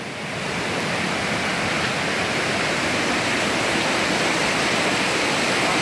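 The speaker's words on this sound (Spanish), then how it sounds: "este río está grande" A large river swollen by heavy rains rushes steadily, a dense, loud, continuous roar of turbulent water with no talk over it.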